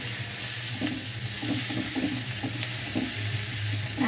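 Chopped onion hits hot oil with whole garam masala, a dense continuous sizzle with soft stirring scrapes repeating every half second or so, close and fairly loud.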